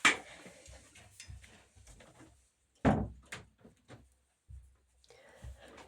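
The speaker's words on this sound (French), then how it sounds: "je vais fermer ma porte" A home door swung shut with a firm thud, preceded by a brief sharp knock and followed by a few lighter bumps and rattles in a quiet room.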